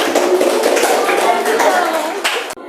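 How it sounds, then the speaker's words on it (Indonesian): Clapping from a classroom audience for a presenting student group, steady and close throughout and stopping abruptly near the end, with voices mixed in. "Beri tepuk tangan dulu untuk kelompok"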